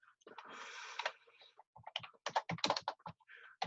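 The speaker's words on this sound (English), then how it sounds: "let's type our sentences" Quick bursts of keystrokes on a computer keyboard come in irregular clusters, close and fairly crisp, with a short stretch of broader rustle near the start.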